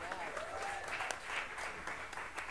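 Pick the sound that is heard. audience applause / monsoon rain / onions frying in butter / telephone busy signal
audience applause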